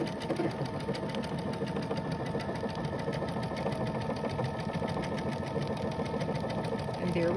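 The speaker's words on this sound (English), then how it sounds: "And this machine is printing so quietly." A Brother Innovis XV8500 embroidery machine stitches a quilting design, giving a steady, fast mechanical whir with a dense rapid needle patter that runs evenly throughout, fairly quiet and close.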